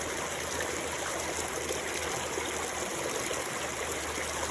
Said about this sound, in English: you're going to fill this white bottle right back up to the top